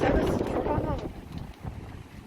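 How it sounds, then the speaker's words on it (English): Strong wind gusting up to 40 miles an hour in the Bahamas buffets the microphone with a loud, steady roar that eases slightly toward the end, while a person's voice is faintly mixed in. "Oh, these winds are so strong."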